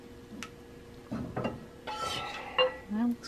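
Garlic pepper shrimp being stirred in a pan, giving soft scraping and clinking of a utensil against cookware in short bursts, moderately close, with faint kitchen background.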